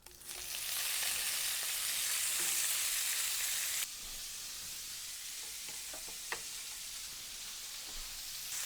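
Vegetables sizzle and fry in a little olive oil in a pan for chicken fajitas, a loud steady hiss that drops slightly partway through, with an occasional stir or utensil tap.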